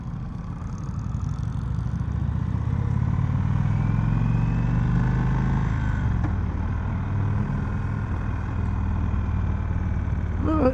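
A 2021 Indian Vintage Dark Horse with its Thunderstroke 111 V-twin rumbles steadily while riding, a low throbbing engine note that swells slightly midway, with a rider talking over it.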